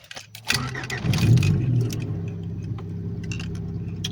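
A car starts up with an exhaust running through a temporary, hack-job muffler repair, giving a steady low rumbling idle that settles after the start, close and fairly loud, with no talking.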